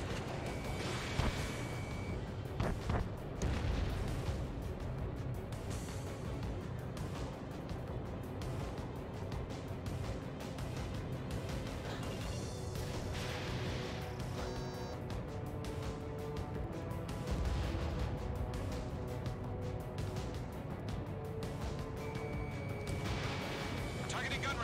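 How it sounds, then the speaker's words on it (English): Anti-air gunfire and explosions in Ace Combat, with rumbling bursts and booms and radio chatter and game voices talking over a dense, continuous din of combat. "Fire anti-air gun!"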